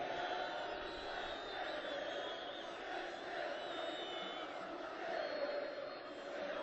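Enthusiastic crowd of young Libyan supporters cheering at a Gaddafi speech, a dense steady roar of many voices with shouts rising and falling throughout, loud and continuous.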